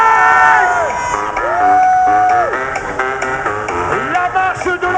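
A large crowd cheers, whoops and shouts at the swim start of an Xterra Découverte triathlon, a loud, sustained roar with children's shrill yells and rising, falling horn-like tones throughout.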